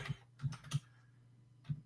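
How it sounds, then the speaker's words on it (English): A computer keyboard is tapped in four sparse, quiet clicks at an uneven pace, with short pauses between keystrokes and no talking. "I'm typing on the wrong keyboard."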